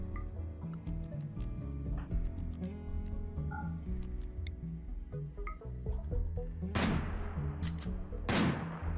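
Gunfire in the modded colony game Rimworld, with several sharp shots cracking out near the end over a soft background of game music and effects.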